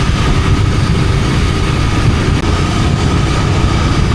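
A motorcycle rides along a road heading out of Daegu. Loud, constant engine rumble and wind roar fill the whole stretch without a break.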